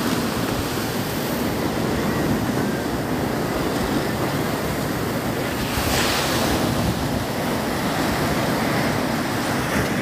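Ocean surf rolls and breaks steadily on a beach where young surfers ride boards, a loud, continuous wash of waves with wind buffeting the microphone throughout and no talk.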